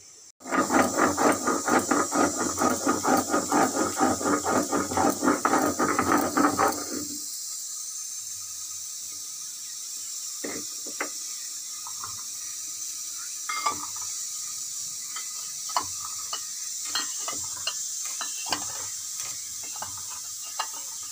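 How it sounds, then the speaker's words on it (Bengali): Whole garam masala spices ground in an electric mixer grinder, a loud dense whirring rattle for about seven seconds that then stops, leaving faint scattered clinks and handling sounds. "তো আমি এই গোটা গরম মশলাটা বেটে নেব।"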